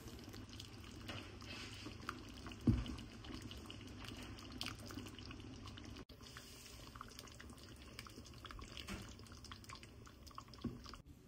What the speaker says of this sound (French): vous mettez sur un feu moyen et c'est parti pour 45 minutes de cuisson